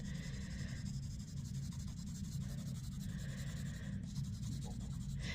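A number 2 pencil shades lightly across a paper worksheet while a vase is drawn. The soft, continuous scratchy strokes repeat steadily, close up and alone, with no talking.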